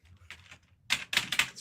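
Bursts of rapid clacking keystrokes on a computer keyboard that is not working, a few soft taps first and then several louder, close clusters of typing.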